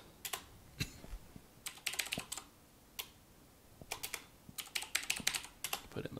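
Keystrokes on a computer keyboard as a password is entered, coming in short irregular bursts of crisp clicks separated by pauses, close and fairly quiet, with no talking.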